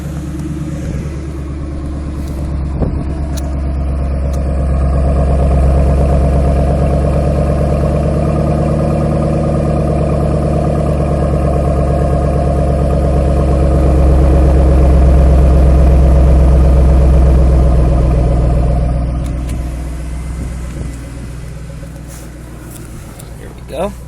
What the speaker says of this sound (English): Maybe you can catch the sound of my exhaust.